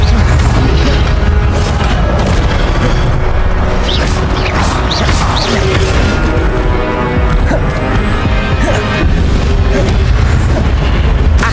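Incendio fire spell casting in Hogwarts Legacy, dense booming bursts and crackling impacts layered over continuous loud game action and music, with spell effects recurring throughout.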